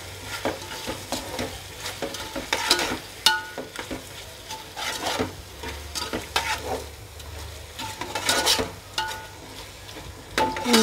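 Prawns fry in a pan with chilli powder and spices, giving a steady sizzle under repeated stirring scrapes and light clinks of a spoon against the pan, close and moderately loud with no talking.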